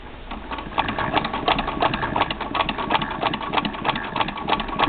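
Home sewing machine running steadily with an overly tight upper thread, a fast even mechanical whir and rapid needle ticking close by, with no talk.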